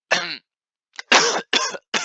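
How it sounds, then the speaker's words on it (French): A close, harsh cough followed by a quick series of three more dry coughs, each a short rasping burst with brief pauses. "excusez-moi pour la toux aussi"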